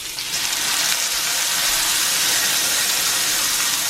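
A ribeye steak sizzles in a smoking-hot cast iron pan, giving a loud, steady, close hiss that holds without a break.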